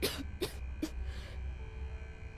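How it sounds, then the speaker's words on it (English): A game character in Starfield coughs three times in close, dry bursts. The coughs are evenly spaced and followed by a quieter rasp, all over a steady low ambient hum. "I've got this bad cough"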